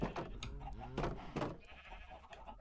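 A Minecraft sheep bleats several times in short, wavering cries, close and fairly clear, with a little other farm-animal game noise around it.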